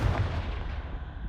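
A fiery Confringo spell blast in Hogwarts Legacy, one loud booming burst with heavy low rumble that fades out over about a second, with no voices over it.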